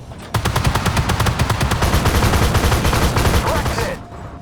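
Rapid, loud automatic gunfire from an AS21 armored vehicle in the game Armored Warfare, a sustained burst of evenly spaced shots lasting about four seconds before cutting off.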